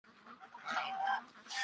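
A goose honks in short, harsh bursts at close range, sounding at night beside a pond where ducks are being fed, with a curious dog nearby; the calls are moderately loud with faint background noise.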